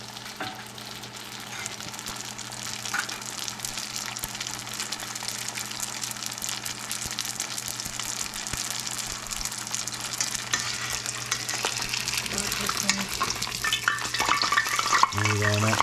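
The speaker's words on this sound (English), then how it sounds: "we're just deep frying it" A chicken wonton taco shell deep fries in hot oil with a steady, loud, continuous sizzle and bubbling crackle that holds unbroken throughout.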